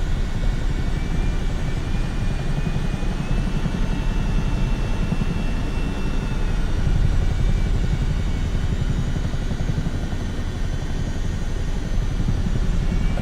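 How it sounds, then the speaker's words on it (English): A helicopter in Microsoft Flight Simulator, a steady droning engine and rotor hum with a rapid low chop and high turbine whine, constant and loud throughout with no talking. "I'm going to get a little helicopter."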